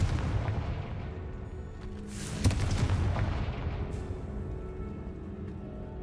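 The Confringo blasting spell erupts in a magical creature rescue video game, a deep rumbling explosion with a sharp crack in the middle, followed by a long roar that slowly fades under steady low background noise.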